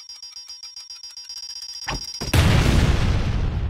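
A game bomb timer effect: rapid, accelerating beeping ticks layered with a bright tone, then a sudden loud booming explosion that rumbles and decays, with no speech.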